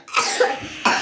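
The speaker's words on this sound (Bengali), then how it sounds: "কাশি হচ্ছে" A light, close cough of two or three throaty bursts, followed by a shorter cough after a brief pause, with no talking.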